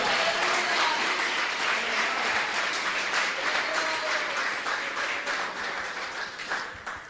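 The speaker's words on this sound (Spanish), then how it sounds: "Dele un aplauso fuerte al Señor." A church congregation applauds at a Spanish-language service, a dense, steady wash of clapping from many hands that slowly thins toward the end.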